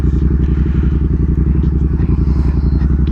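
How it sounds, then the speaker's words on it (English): A Yamaha FZ07 motorcycle exhaust rumbles loud and close in a steady, deep, throbbing pulse that holds through the whole stretch, with faint clatter on top. "I love that sound, baby. Very distinct sound. I don't think there's another exhaust that sounds like that."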